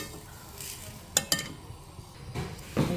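A spoon stirs banana toffee sugar in a pan as it browns, with soft scraping and sizzling throughout and a few sharp clinks against the metal.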